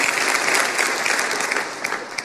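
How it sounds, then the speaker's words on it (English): A church congregation claps together in a dense, steady burst of hand claps that tapers slightly toward the end, with no voices on top. "Somebody give the Lord a hand clap."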